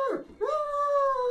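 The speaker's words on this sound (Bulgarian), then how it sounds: "Какво не е наред с това куче?" A dog howls and whimpers, a wavering yelp sliding down, then a long sustained rising howl held steadily to the end, loud and close with no talk over it.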